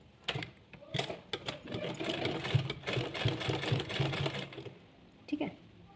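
A sewing machine runs close by as it top-stitches a sleeveless blouse, a fast rhythmic clatter of the needle lasting several seconds, with soft talking around it and a brief stop before a short final burst.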